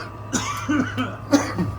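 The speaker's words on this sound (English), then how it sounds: "I was coughing because of it" A few raspy coughs, close and moderately loud, over a steady low background hum, with quiet pauses between them.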